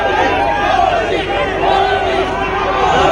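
A large crowd welcoming Narendra Modi in New York, a dense, steady roar of cheering and excited voices with shouted calls rising over the babble, loud and continuous throughout.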